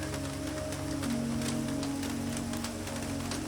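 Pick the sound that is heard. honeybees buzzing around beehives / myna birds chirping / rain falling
rain falling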